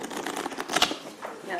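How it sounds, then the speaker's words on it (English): Deck of playing cards riffled in a real shuffle during a live magic demonstration at a science week event, a brief crisp flutter of card edges with an audience murmuring and people talking around it. "that was a real shuffle"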